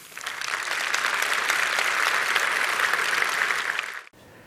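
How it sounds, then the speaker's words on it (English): Conference audience applause follows a talk at a Vue.js event in Amsterdam. A full, steady round of clapping from a large crowd lasts about four seconds, then cuts off abruptly. "Please give him a big applause."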